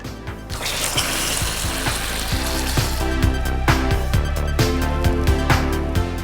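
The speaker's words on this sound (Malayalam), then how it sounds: "തീ കുറച്ച് വെള്ളം ഒഴിക്കാൻ പോവുകയാണ്" Water is poured into hot caramel in a pan for banana pudding, producing a loud, continuous sizzle and bubbling hiss with crackling pops, close and steady with no talk.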